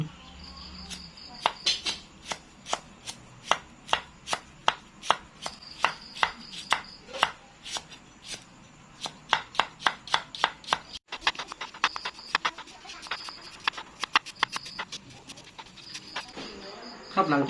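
Rapid, sharp knife chops on a board as galangal is chopped for a northern Thai vegetable salad, mostly steady with brief pauses, close and loud, a faint chirping and occasional voices behind.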